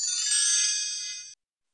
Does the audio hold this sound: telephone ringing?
yes